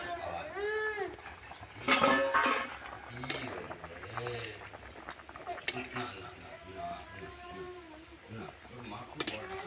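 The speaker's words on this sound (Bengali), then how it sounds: "কুড়ি মিনিট পরে আমি ঢাকা চাপাটাকে তুলে নিচ্ছি" A lid is lifted off a pot of neem curry with potatoes simmering on the stove, bringing a metallic clatter of pot and cookware with clinks around two seconds, under steady kitchen noise and some talking.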